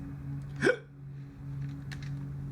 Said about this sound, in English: I'm sorry, I've got hiccups.